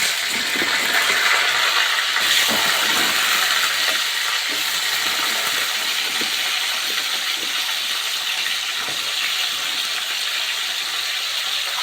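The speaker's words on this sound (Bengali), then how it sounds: "তেল গরম হয়ে গেছে এবারে আমি ওলগুলো কড়াইয়ে ছেড়ে দিচ্ছি" Pieces of elephant foot yam frying in hot oil in a wok give a steady, loud hiss and sizzle with faint crackles running throughout, and nobody talks.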